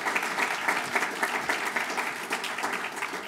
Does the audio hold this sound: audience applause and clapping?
yes